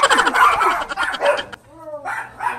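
Several dogs bark loudly and repeatedly at close range during a house visit, with sharp yips and bow-wows crowding together before a short pause and a final burst.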